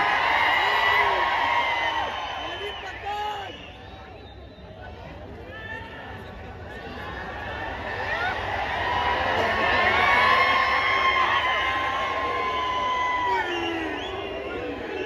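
Large crowd shouting, whooping and cheering at an AIMIM political rally in Solapur, a loud continuous roar of many voices with whistles, swelling again toward the end.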